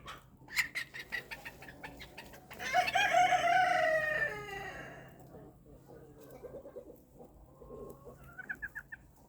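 Cochin hens and roosters in a backyard flock cluck in quick bursts, then a rooster crows loudly and at length, followed by more soft clucking and chatter nearby.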